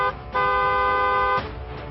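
A single car horn sounds one steady, bright honk lasting about a second, close and loud, with a brief tap before it and a fading tail afterward.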